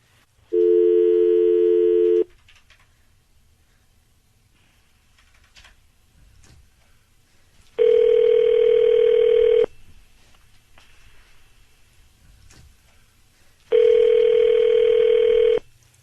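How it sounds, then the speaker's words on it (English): A phone call ringing out: three long, steady electronic ring tones separated by several seconds of near silence, clear and close on the line. "We're about to dial your husband, all right?"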